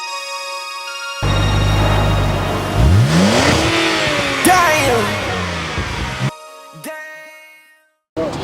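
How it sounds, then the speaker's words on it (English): Engine of a 2012 BMW 128i revving up loudly near the listener, rising in pitch over several seconds with a steady roar before cutting off abruptly, followed by brief clunks. "I drive a 2012 BMW 128i."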